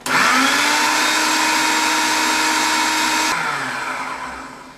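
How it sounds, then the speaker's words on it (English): A food processor whirs loudly and steadily while blending roasted red pepper hummus with a tablespoon of olive oil, running for about three seconds before its motor winds down and fades. "I'm also going to add about a tablespoon of olive oil, just for flavor, and then give it another pulse"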